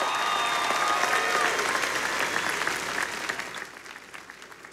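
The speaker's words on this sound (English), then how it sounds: "Another round of applause for Ms. Torres." Applause from a commencement audience for a graduating class fills the hall, loud and dense at first, then gradually thinning and fading toward the end.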